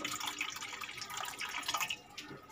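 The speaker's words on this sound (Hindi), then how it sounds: "मैंने एक बर्तन ले लिया है, इसमें मैं डालूँगी थोड़ा सा नीम गुनगुना पानी।" Lukewarm water pours into a bowl for pizza dough, a quiet continuous splashing trickle that runs alone and close by for about two and a half seconds.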